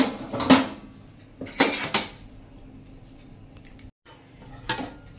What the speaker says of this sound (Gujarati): તો હવે આપણે તપેલી બહાર કાઢી લઈએ।